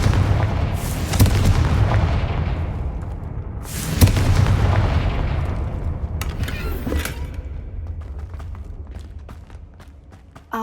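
A Confringo blasting spell in Hogwarts Legacy detonates with two loud, deep booms, the second near the middle, each rolling into a long rumbling decay. Scattered crackling debris and small clatters follow as the sound fades.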